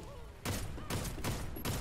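Gunfire in the Warface shooter on Nintendo Switch: four loud, sharp shots spaced roughly half a second apart, close and punchy, with faint game tones before the first blast.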